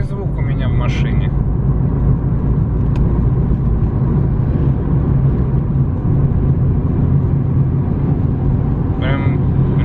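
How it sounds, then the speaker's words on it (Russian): A car's worn wheel bearing hums steadily from inside the cabin while driving, a constant low drone mixed with road rumble throughout, with a person talking over it. "Что-то походу, ребят, подшипник ступится у меня, гудит."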